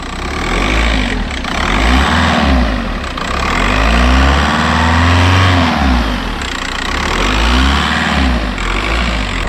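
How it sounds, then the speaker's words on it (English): A VW Golf MK4 Variant with the 1.9 TDI AXR diesel and its EGR valve deleted runs up close and loud, the engine rising and falling in revs with a turbo spool over a steady rumble. "So you can definitely hear the turbo spooling up a bit more."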